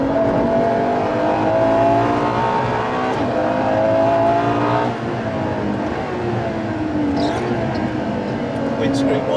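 A 950+ bhp Ferrari LaFerrari hybrid hypercar is driven hard through curves, its engine note rising and falling in steady loud sweeps from inside the cabin while someone talks over it.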